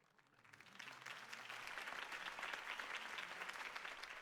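Crowd applause after a campaign speech in Batman: The Telltale Series, a broad wash of clapping swelling in over the first second and then holding steady at a moderate, somewhat distant level.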